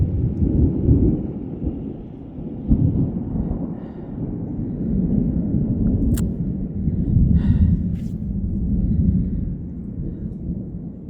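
Thunder from a passing thunderstorm rolls on in a deep, continuous rumble, loud and close, swelling and easing over several seconds with a couple of faint sharp clicks on top.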